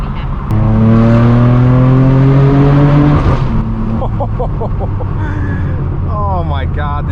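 A straight-piped BMW M4 F82 roars loud and close as revs climb steeply, then the DCT gearbox snaps through a quick shift before the exhaust keeps pulling and crackling through further revs.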